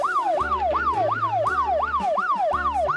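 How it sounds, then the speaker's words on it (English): A loud siren wails in quick, repeating rising-and-falling sweeps, about two per second, with a low steady droning tone underneath. "Here comes the police car."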